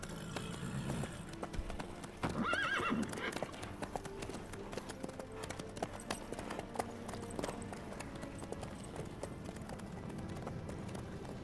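Hoofbeats of a horse in The Witcher 3 clip-clop steadily through the whole stretch, with a short neigh near the start, under in-game dialogue and ambient game sound.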